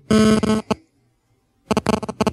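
A mobile phone rings in a room, giving two loud bursts of a tonal ringtone melody separated by a short silent gap.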